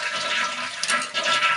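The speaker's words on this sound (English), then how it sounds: "So now I can flush" A toilet flushes after its loose handle has been fixed, a steady broadband rush of tank water pouring into the bowl, close and loud throughout with a brief surge midway.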